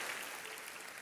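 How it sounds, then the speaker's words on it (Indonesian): A church congregation claps together in a dense, steady burst of applause that fills the room, loud and close throughout, with no voices over it. "tepuk tangannya yang paling meriah buat Yesus Tuhan kita"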